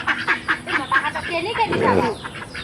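Village ducks quack in a string of short, nasal calls at close range, with people talking over them.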